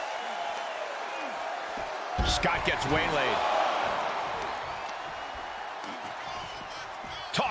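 Wrestling crowd in WWE 2K24 reacting to Steiner: a sustained arena roar that swells with a slam-like impact midway, then holds steady under continuous commentary.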